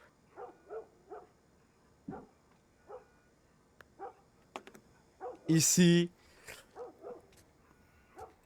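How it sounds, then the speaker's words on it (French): A dog barks once loudly in The Last of Us, a short burst of yaps amid someone talking in French over the game. "Tu vois le chien fait de bruit."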